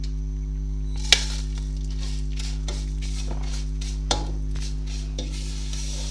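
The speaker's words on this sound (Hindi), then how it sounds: "इसे हल्का फ्राई करना है, इसे तेज़ फ्राई नहीं करना कि ये जले ना" Broken vermicelli lightly fried in a pan, soft stirring scrapes and gentle sizzle over a steady low hum, with a few sharper utensil taps against the pan.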